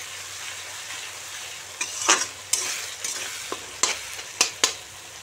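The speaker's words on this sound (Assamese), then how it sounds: "এয়া পেষ্টখিনি ঢালি দিলোঁ, আৰু এতিয়া এইখিনিও অলপ সিজিবলৈ দিওঁ" Ginger garlic paste sizzling over a medium flame in a pan of oily Shillong-style coiller chicken, under a constant hiss. Several sharp scraping stirs come in bursts toward the end.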